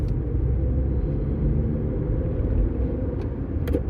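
A car moves along a road with a steady, loud, close low rumble of engine and tire noise, with no voices.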